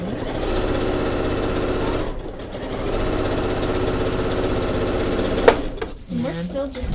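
Sewing machine stitching seams on a baby quilt, a steady close whirring run that pauses briefly near the middle, stops with a click near the end, and gives way to speech.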